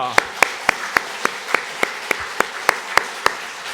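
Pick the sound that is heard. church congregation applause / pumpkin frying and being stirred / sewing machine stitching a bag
church congregation applause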